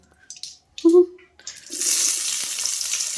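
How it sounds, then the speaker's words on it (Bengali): Onions fry in a pan with salt and turmeric while egg curry is cooked at home. A few clinks and brief kitchen noises come first, then a steady hissing sizzle rises and keeps going at moderate loudness. "পেঁয়াজগুলো ভাজো ভালো করে।"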